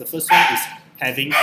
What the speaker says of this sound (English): that's my dog barking excitedly